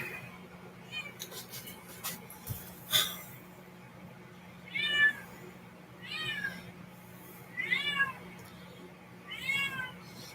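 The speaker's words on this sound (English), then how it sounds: "she's been meowing all day" A cat meows indoors in four repeated, fairly clear calls spaced a couple of seconds apart, over a quiet background hum with a few faint earlier sounds.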